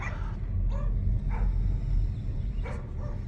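Several dogs bark and yip in short, scattered bursts over a constant low rumble of background noise, the barks sounding somewhat distant and uneven in rhythm.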